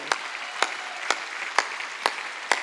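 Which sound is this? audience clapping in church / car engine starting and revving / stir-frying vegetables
audience clapping in church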